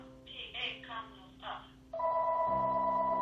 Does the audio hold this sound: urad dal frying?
no